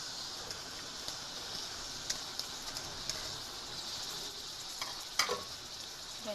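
Onions sizzling in about half a cup of oil as the masala base for keema karela, a steady bright fry with small pops and occasional stirring clatter, close and without talk.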